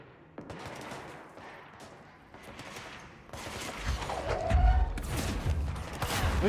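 Gunfire in the action game Control builds from a quiet, distant crackle into heavier, louder bursts and impacts, with mechanical clanks mixed in toward the end.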